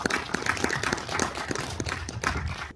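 An audience at a film preview screening at CGV Gwangju Sangmu in Korea claps and applauds in a fairly quiet, scattered burst lasting a few seconds, with no talking.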